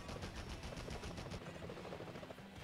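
Rapid bursts of gunfire in the Spider-Man video game on Dreamcast, a dense, loud, continuous rattle of repeated shots with a steady rhythm throughout, no talking.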